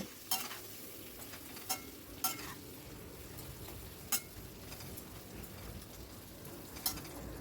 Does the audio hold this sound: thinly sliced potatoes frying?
yes